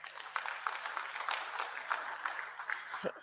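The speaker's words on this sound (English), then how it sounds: "Please give yourself a round of applause." Farmers at an engagement session give themselves a round of applause, a steady patter of many hands clapping at moderate level throughout, with no voices standing out.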